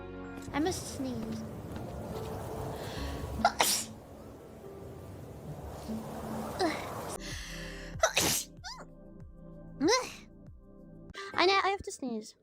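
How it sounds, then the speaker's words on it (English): Repeated sneezes from one person burst out loudly in quick succession, about four explosive bursts, mixed with breathy talk and gasps in between. "I have to sneeze."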